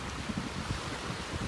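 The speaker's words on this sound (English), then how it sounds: "That wind is coming in off the Gulf this morning." Gusty wind off the Gulf of Mexico on a Florida beach in North Naples, a steady rough rumble buffeting the microphone with faint surf beneath, no voices.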